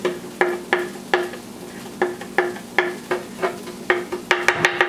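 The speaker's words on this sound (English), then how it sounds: "trying to chop that nice and fine" A knife chops food finely on a cutting board in steady, crisp taps, speeding into a quick flurry of strikes at the end, close and clear with no talking.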